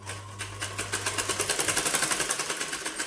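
A sewing machine stitches piping onto a blouse, a fast, even run of needle chatter that starts after a low hum and continues steadily at close range.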